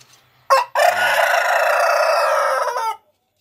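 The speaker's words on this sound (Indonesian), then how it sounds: "ini kita lihat ini di peternakan ayam mas Anthony Farm" A rooster crows loudly and close at a chicken farm, one long strained call after a short opening note.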